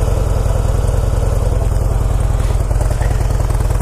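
A 2006 Harley-Davidson Heritage Softail idles up close and loud: its steady, throbbing V-twin pulse keeps an even loping rhythm with no voices over it.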